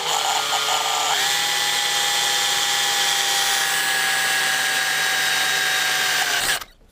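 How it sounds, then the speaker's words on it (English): A power drill whines steadily at high speed boring through lead, its pitch dropping slightly as it bites, then cuts off abruptly near the end. No talking. "a drill of predetermined size and just holding that there."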